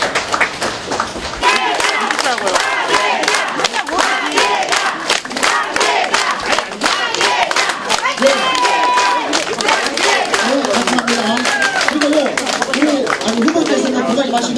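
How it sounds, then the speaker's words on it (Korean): At a political rally in Gwangju and South Jeolla, a large crowd cheers, chants and claps as the party leader enters, a loud, continuous roar with shouting voices layered over scattered clapping. "박수 부탁드리겠습니다"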